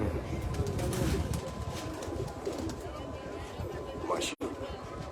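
Sialkoti pigeons coo at a pigeon-flying tournament, soft repeated cooing under nearby chatter and general outdoor noise, with a brief sharp knock near the end.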